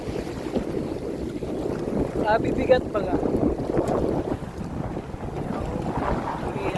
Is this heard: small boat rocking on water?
yes